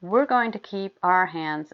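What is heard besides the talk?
No everyday noises stand out.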